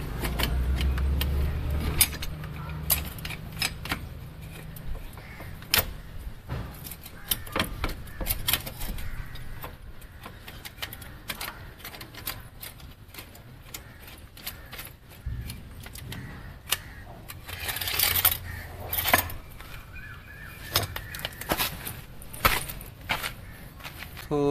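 Maruti car being lowered on a jack, heard as a series of sharp metallic clicks and clanks with handling noises and short pauses between strokes, close and fairly loud.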